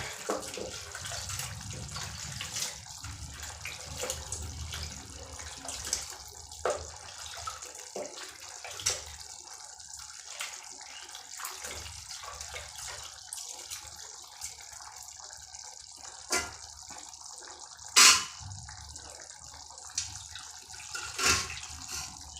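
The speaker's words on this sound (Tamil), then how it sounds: "நல்லா புளி கரைச்சி ஊற்றியாச்சு" Dissolved tamarind water is poured into an eggplant curry as a soft continuous liquid wash, with faint splashes and a few brief louder clinks of a pot or utensil.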